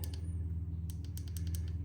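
Tactile volume and power keys on a Google Pixel 10A are clicked through a Supcase UB Pro Mag protective case, giving a quick series of faint, crisp clicks over a low steady hum.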